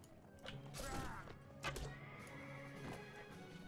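Horse neighing in the Mount & Blade: Warband medieval combat video game, a couple of whinnies with clip-clop hooves amid battle noise, moderately loud with no talk over it.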